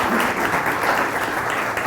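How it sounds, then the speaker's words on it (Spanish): A conference audience at a cybersecurity event applauds a speaker, a steady, dense wash of clapping heard briefly and at even loudness. "Le pido un aplauso para él."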